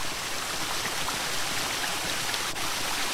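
Steady rushing water from a waterfall in the video game Ankh: Herz des Osiris, a dense even hiss that continues unbroken and fairly loud throughout.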